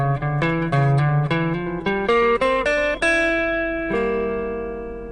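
An electric guitar plays a quick chromatic minor phrase drawn from the Dorian scale, a run of clear picked notes ending on a held note that rings out and fades.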